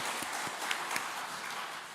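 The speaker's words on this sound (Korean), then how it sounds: "하나님께 영광의 박수 올려드립니다" A congregation claps together during a Sunday church service, giving a steady, fairly faint wash of applause that lasts throughout with no single claps standing out.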